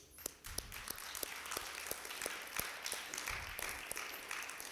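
A congregation applauds during a Spanish-language church morning service: scattered, moderately faint hand claps with sharp individual strikes standing out over a continuous patter, steady throughout without talk.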